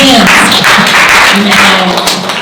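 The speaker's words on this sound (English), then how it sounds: "Let's all clap our hands." A group at a church summer camp session claps their hands together in a loud burst, while voices speak and call out over the clapping.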